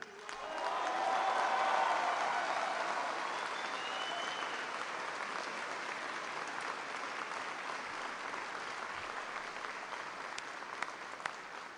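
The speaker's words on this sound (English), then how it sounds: "I want everyone to give a big round of applause to the amazing families who serve along with you." Sustained applause from a large audience honoring military families at a Department of Defense event, swelling quickly, then holding steady and full for the length of the clip, with light crowd murmur mixed in.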